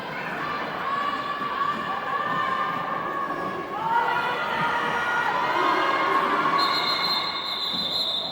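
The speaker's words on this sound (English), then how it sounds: "Very loud crowd to call it there from the Newcastle bench." A loud crowd at a WFTDA roller derby bout between Rainy and Newcastle, led by the Newcastle team bench, yells and cheers continuously, with shrill held voices rising and swelling over the noisy arena.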